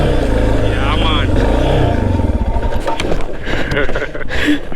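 A motorcycle engine revs and accelerates loudly close by, its pitch climbing, while voices talk over the running engine.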